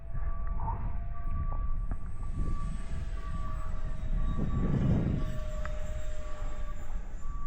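Remote-control YF-23 Black Widow model jet flying overhead, a thin whining tone over a low rushing roar that swells briefly as it passes, fairly distant and quiet, no speech.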